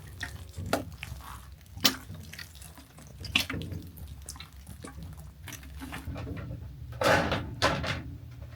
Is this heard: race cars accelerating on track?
no